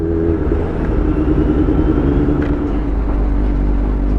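A motorcycle engine idles steadily after its engine was cleaned, parked at a roadside hangout in Cavite, with a loud, even low rumble and no change in pace.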